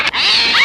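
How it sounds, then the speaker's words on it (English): Sharp, sustained cat screech bursting out in a movie jump scare, loud and close, rising in pitch toward the end with no talking over it. "Oh my God, it's a cat!"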